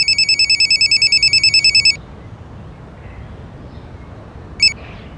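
A telephone rings loud and close with a rapid, regular electronic trill that cuts off after about two seconds, followed by quiet room tone and one brief electronic blip.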